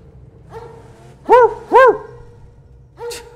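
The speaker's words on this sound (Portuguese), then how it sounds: "Cachorro machucado." An injured dog in the Mad Max video game, giving a few close, loud barks and yelps with a rising-falling whine to them, two close together, then one more after a pause, over a low game background.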